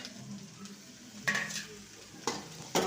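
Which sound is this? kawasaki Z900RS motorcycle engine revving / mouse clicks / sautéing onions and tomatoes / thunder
sautéing onions and tomatoes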